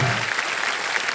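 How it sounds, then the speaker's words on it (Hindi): A game-show studio audience breaks into steady, dense applause, loud and sustained for the whole short stretch with no voices over it. "जोरदार तालियां हमारे इन मालियों के लिए"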